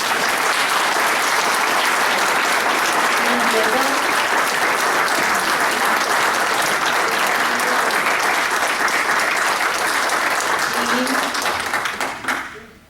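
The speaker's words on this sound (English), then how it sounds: "I couldn't hear you with all the clapping" Audience clapping at a city council meeting, a loud, sustained roar of many hands with scattered voices mixed in, holding steady for over ten seconds before tapering off at the end.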